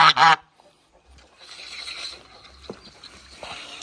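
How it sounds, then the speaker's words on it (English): A goose gives one sharp, loud honk right at the start, followed by quieter rustling and shuffling close by. "I know you're going to bite me, but I'm going to check underneath you, okay, Goose?"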